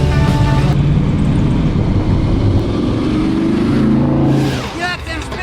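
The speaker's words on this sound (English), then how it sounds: "You got them spinning tires" A 1970 Plymouth Superbird clone with a 528 HEMI roars steadily as its tires spin, loud and close for several seconds before the noise drops off near the end.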